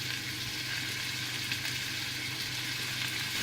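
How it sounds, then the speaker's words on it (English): Lamb meatballs fry in a pan with a steady, close hiss and crackle of oil that holds even and unbroken throughout, with no voices over it. "It's time to fry up our lamb meatballs"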